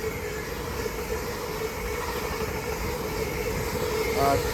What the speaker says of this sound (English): Next service pass through is LNER service off to Edinburgh Waverley from London King's Cross. Formed as 801 222.